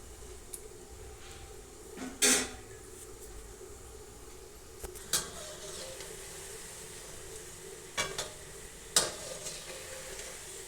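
Vadas frying in a kadhai of hot oil, a steady soft sizzle running throughout with a few sharper crackles and pops standing out at intervals.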